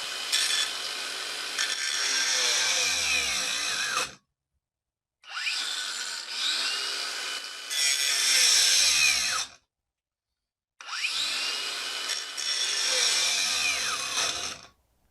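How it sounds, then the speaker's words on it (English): A Bauer 2161CR-B brushless angle grinder pressed hard against a steel plate, three long loud bursts of high grinding whine, each ending as the motor cuts out and spins down into brief silence. "I'm going to press down grinding until the grinder cuts out."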